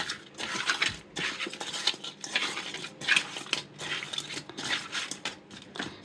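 Chapila fish being mixed by hand with turmeric and salt, giving soft, repeated wet squelching and rubbing with light clinks against a bowl, close and quiet in an uneven rhythm.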